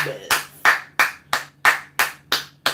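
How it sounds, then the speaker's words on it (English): A single person clapping, eight sharp, evenly spaced claps at a steady rhythm, close and fairly loud, with no talking between them. "let's clap. Let's clap with the townspeople"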